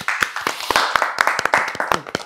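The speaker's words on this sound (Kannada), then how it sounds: "ಹೊಡೆದ್ರಿ ಚಪ್ಪಾಳೆ" An audience clapping at a stage show with film lyricists, a short burst of sharp, uneven handclaps from a small group, close and loud for about two seconds.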